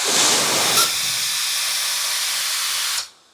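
A 150,000 RPM brushless electric air duster blasts air into a garbage bag: a loud, steady rushing hiss that swells at first, then runs evenly for about three seconds before cutting off abruptly.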